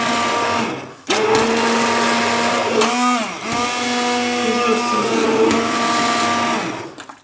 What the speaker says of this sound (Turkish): Şöyle ben biraz da çektirdim robot blenderıma.